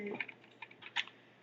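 Several quiet key presses on a computer keyboard during product design work in 3D modeling software, a few soft scattered clicks, close but faint.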